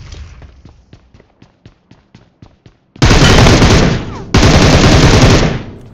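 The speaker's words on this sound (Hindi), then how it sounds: "अब पोचंकी में चारों साइड से फायर आ रहा था" Gunfire in a PUBG battle at Pochinki: a run of evenly spaced single shots, then two loud, dense bursts of rapid automatic fire close by.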